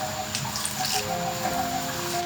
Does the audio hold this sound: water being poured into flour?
yes